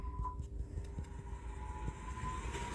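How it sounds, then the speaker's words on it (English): A train rumbles past with a deep continuous roll, a faint steady horn-like tone and occasional clicking knocks, fairly close and sustained, with no speech. "What was that, a train?"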